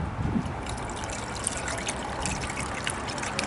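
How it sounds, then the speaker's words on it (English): Coolant pours in a steady trickle into a car's coolant reservoir, a continuous close liquid splash and gurgle with a few faint drips, no voices over it. "Now you open up the cap and we're gonna pour the coolant right back in."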